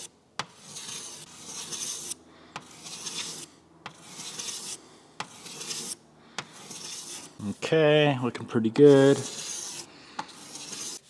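A paint run on a car door is sanded by hand in repeated rhythmic rasping strokes, close and steady, and someone speaks briefly partway through.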